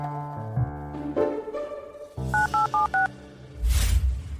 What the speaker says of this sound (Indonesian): Ibu Tania, Anda masih punya satu kesempatan untuk menelepon